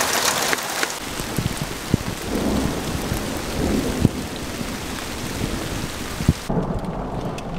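A thunderstorm pours rain and hail onto an aluminum-coated Mylar emergency survival tent at a campsite, a dense steady hiss of drops drumming on the fabric, broken by several sharp close pattering thuds and a low rumble of thunder.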